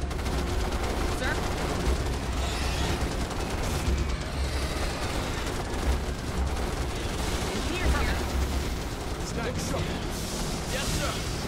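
Rapid gunfire and booming blasts from troopers battling bugs in the real-time strategy game Starship Troopers: Terran Command, dense and continuous throughout, with unit voice lines in the mix.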